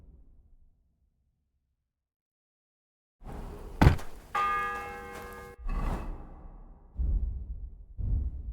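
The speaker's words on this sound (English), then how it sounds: "The first bell." A church bell rings in the video game Kingdom Come: Deliverance 2, opening with a loud metallic strike and a long ringing tone, followed by deeper resonant tolls after a stretch of near silence.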